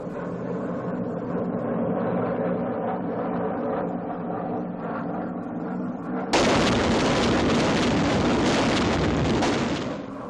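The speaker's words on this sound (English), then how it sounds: "On impact, an M1 fuse detonates the ejection charge, which ignites and hurls the gel filling from the tail of the bomb." Jellied gasoline cluster bombs striking their target in 1945 wartime footage, a low rumbling roar that jumps abruptly into a loud, dense, crackling blast sustained for several seconds.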